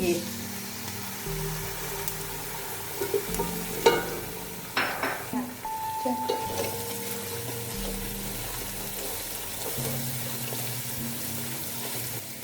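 Two beaten eggs sizzle and fry in a pan of rice and softened vegetables, with a steady hiss broken by scraping and stirring clatters from the spatula, close up and fairly loud.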